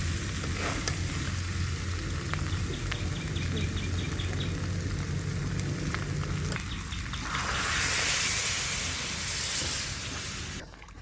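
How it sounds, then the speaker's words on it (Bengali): Milk is poured into a sizzling pan of spicy mutton curry, giving a steady bright frying hiss with some stirring clatter that swells briefly near the end before cutting off. "আমার মাংস কষানো হয়ে গিয়েছে, এবার আমি দুধ দিয়ে দিচ্ছি।"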